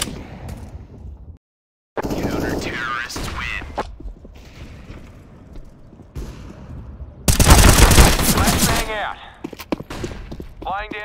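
Rapid bursts of gunfire in the game CS:GO, loud clustered shots heard in several volleys with short gaps between them, mixed with game effects and a voice talking over parts of it.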